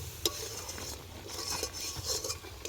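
Dried fish curry spices being stirred and sautéed in a pan outdoors in a field, a spoon scraping and clinking against the metal with a soft sizzle underneath, steady and close, with no talk.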